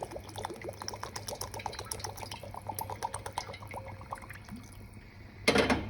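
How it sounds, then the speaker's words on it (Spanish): Hot water pours and trickles into a simmering tripe stew sauce in a pot, a steady close liquid stream over a low hum, ending in a brief louder splash or clatter. "Este es el momento en el que podés agregarle agua, de preferencia caliente"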